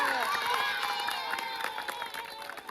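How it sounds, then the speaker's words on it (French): Children at an Easter event cheer and shout with scattered clapping, a lively, close crowd of high voices sustained throughout. "Là, on applaudit très fort."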